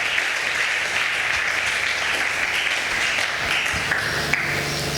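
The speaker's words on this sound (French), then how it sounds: "Acclame d'abord pour toi-même." A church congregation applauds steadily for the full stretch, a dense, continuous wash of clapping at moderate distance with no clear breaks.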